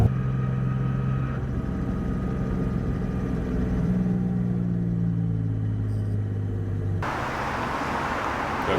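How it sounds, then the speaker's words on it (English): A car sits in rush hour traffic with a steady low engine and road rumble heard from inside the cabin, ending in a brighter broadband whoosh as traffic noise swells. "We totally left the house at 4:54 and we're in rush hour traffic."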